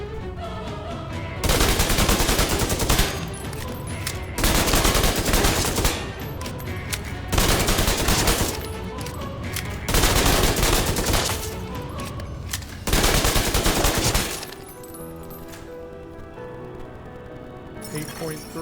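Thompson 1928 submachine gun firing in the Division 2 video game, five loud sustained bursts of rapid automatic fire separated by short pauses, ending with quieter ambient game sound.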